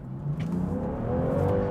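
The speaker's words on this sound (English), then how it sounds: "That's a supercharger, turbocharger, and hybrid system all working" A 2021 Land Rover Defender's engine accelerates with its supercharger, turbocharger and hybrid system working together, giving a steady, rising whirring drone heard from inside the vehicle.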